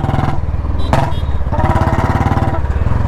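A Royal Enfield Bullet motorcycle thumps at low rpm with an uneven beat, and its exhaust lets out a few sharp backfire pops over the steady engine rumble, close and loud.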